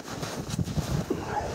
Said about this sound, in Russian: Блин, сейчас ветер.